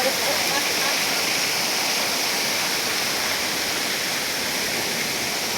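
Jugail waterfall between mountains in Sonbhadra, a steady dense roar of falling water, loud and unbroken throughout with no voices.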